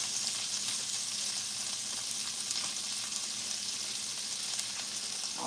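An onion, freshly cut up, fries in a pan in a home kitchen with a steady, even sizzle that holds at a constant level throughout, with no talking over it.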